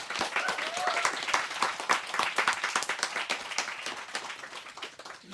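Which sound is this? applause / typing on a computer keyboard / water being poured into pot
applause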